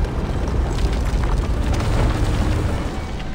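Aircraft explosion in the video game Contra: Operation Galuga, a dense, continuous rumbling blast with crackling fire-like noise, loud and sustained throughout without speech.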